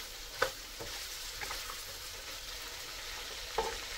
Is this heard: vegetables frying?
yes